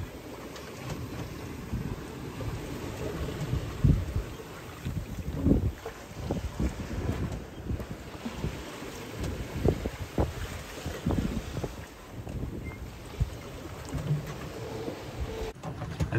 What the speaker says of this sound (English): The wind is maybe starting to die.